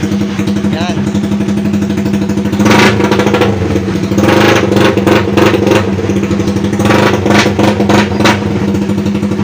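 A Raider 150 Fi motorcycle engine with a pipe fitted runs steadily right after an overhaul, a loud close rumble that swells with a few sharper revs partway through while people talk over it.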